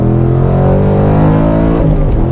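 A loud Ford Mustang Mach 1 engine roars close by, revving hard with a deep, throbbing tone as it pulls and accelerates.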